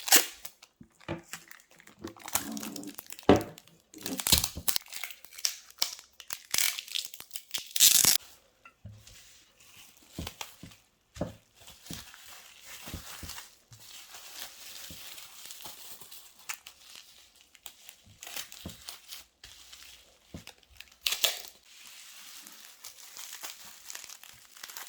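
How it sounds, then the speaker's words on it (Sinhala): Cello tape pulled and wrapped around jar lids and a bottle cap to seal them for packing, giving repeated crinkling, tearing and crackling bursts, loud at first and then steadier and softer, with no talking. "ඉතින් මේ හැම පියනක්ම මම සෙලෝ ටේප් වලින් සීල් කරනවා."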